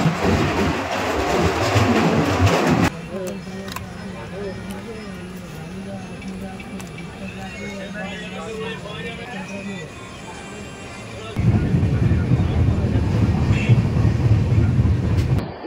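The Prashanti Express runs at Chipurupalli railway station, with loud rolling rumble at the start and end and a quieter hum of the train between, as people talk throughout.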